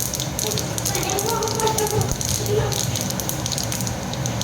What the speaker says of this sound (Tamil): வெந்தயம் நல்லா செவந்துட்டு கடுகு பொரியுது